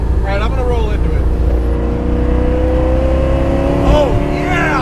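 Supercharged C5 Corvette making over 800 wheel horsepower, with 2-inch headers into 3-inch straight pipes and Billy Boat exhaust, accelerates hard with a loud, rising engine roar that keeps building throughout, close to the listener.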